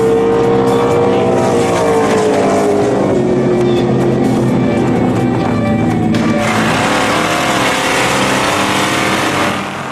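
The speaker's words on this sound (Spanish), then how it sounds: "La pista de Gimli se ha transformado en un circuito de carreras de coches." Race cars roaring around a drag-racing circuit laid out on the Gimli airstrip, a continuous loud engine drone with rising and falling pitch that fills the whole stretch, with crowd ambience beneath.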